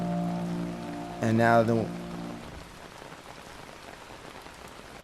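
Rain ambience from a lofi plugin, a steady soft hiss of drops on a surface that keeps going after a short musical tone ends, while a voice briefly speaks over it.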